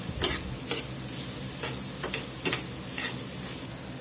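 Whole spices toasting in a hot pan for enchiladas, a soft steady sizzle with a few light scrapes and clicks of a utensil stirring them, close and fairly quiet.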